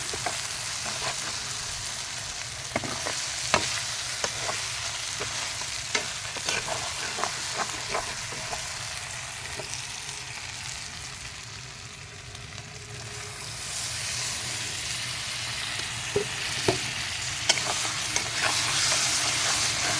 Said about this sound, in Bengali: এবার লঙ্কার গুঁড়োটা দিয়ে আরেকটু কষি